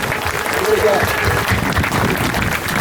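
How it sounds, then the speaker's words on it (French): Outdoor spectators applauding workers at a tatara iron-smelting demonstration, a continuous broad patter of clapping with voices mixed in underneath, steady and fairly loud throughout. "Allez, vous pouvez les applaudir."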